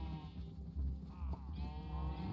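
Sheep bleating in a survival video game, a single faint wavering bleat rising midway over a low background hum, no talk.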